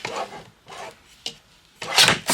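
Card paper trimmed to size with a paper trimmer for a handmade ocean-themed card, a few short dry slicing and rubbing strokes, close and quiet, the last stroke louder.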